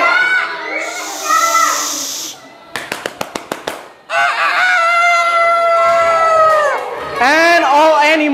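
A voice imitates a rooster crowing during a children's jungle story: several long, loud, wavering crowing calls, broken by a quick burst of sharp claps or clicks, with the storyteller close to the microphone.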